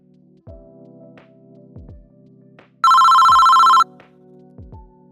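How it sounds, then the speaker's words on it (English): A telephone rings once in a loud, bright electronic burst lasting about a second, amid quieter tonal chimes and soft thumps, with no talking. "The phone ringing."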